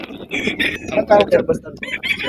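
Gamefarm chickens and stags cluck and squawk close by in a quick, busy burst, with a rooster-like call rising among them.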